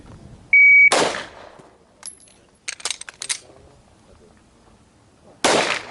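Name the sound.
shot timer beep followed by pistol gunfire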